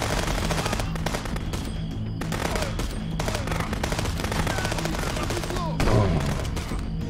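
Heavy machine-gun bursts and rifle shots in the game Contraband Police, loud and rapid, with a deeper boom near the end and voices underneath.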